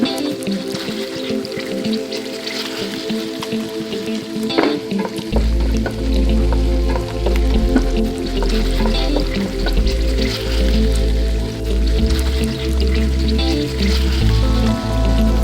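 Garden vegetables tossed in teriyaki sauce sizzle and hiss in a hot pan, with a spatula stirring and scraping in steady strokes; the frying is loud and close and runs continuously without any talk.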